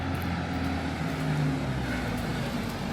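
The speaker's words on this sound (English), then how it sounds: "hold on, this car go past." A car passes on a nearby road, a steady broadband engine and tyre rumble holding at a constant level throughout with no clear rise or fade, no talking.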